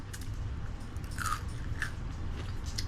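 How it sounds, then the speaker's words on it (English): Crunchy fried white-potato hashbrowns being chewed up close, with a few sharp, crisp crunches standing out over soft mouth noise. "That's a nice crunch."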